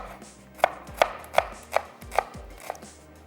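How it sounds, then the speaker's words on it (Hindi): A knife slices through a medium-sized onion on a cutting board, six crisp, evenly spaced chops close up with quiet pauses between them and no talking. "दरमियाने साइज़ की प्याज और इसको हम कर लेते हैं स्लाइस।"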